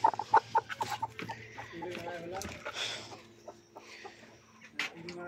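Domestic hen sitting on eggs on a small farm, giving a quick run of close clucks at the start followed by softer low murmuring clucks, with people talking nearby.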